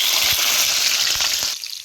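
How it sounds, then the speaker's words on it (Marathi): Chopped bitter gourd fries in plenty of hot oil, a loud, close, steady sizzle with faint crackles that drops off abruptly near the end. "चिरलेली कारली आता ही तळून घेतो."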